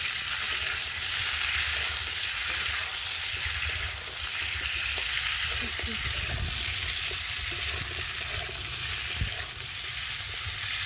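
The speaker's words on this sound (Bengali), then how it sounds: "আমার আলু আর বেগুনটা ভালোভাবে ভাজা হয়ে গেছে" Potatoes and eggplant frying in a pan make a loud, steady sizzle with a constant hiss, and occasional stirring knocks sound against the pan throughout.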